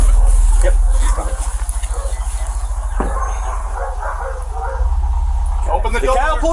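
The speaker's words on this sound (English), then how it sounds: "God, that sounds like bigger dogs." Big dogs bark and whimper behind a house door during a police search warrant entry, heard under loud shouting voices and a low engine rumble.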